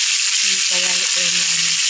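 Chicken frying in hot oil in a pan for a crispy finish, producing a loud, dense hiss of sizzling that stays constant throughout, with a faint voice murmuring underneath.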